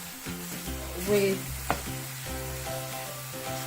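Ginger garlic paste sizzling in a hot pan, a steady frying hiss with stirring scrapes and a sharp clink, while someone talks over it.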